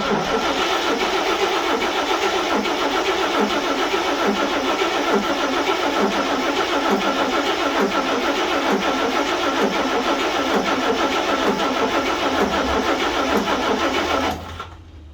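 Engine of a 1941 GMC truck, unstarted for 20 years, cranking over and over on the starter, a loud rhythmic chugging churn that runs steadily without catching and then stops abruptly.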